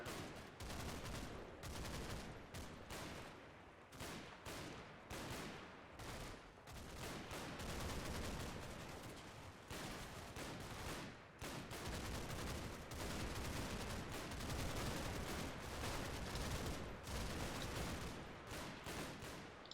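Machine gun fire from a house in the World War II game Combat Mission: Battle for Normandy rattles in long, dense bursts with brief pauses, loud and sustained throughout.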